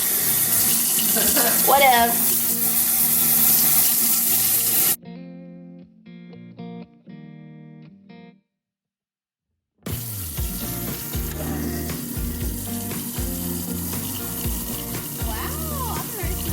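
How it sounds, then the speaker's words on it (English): Warm water runs steadily from a kitchen tap into a sink, loud and close, cutting out for a few seconds before gushing again, while someone says a word over it. "I'm supposed to run warm water."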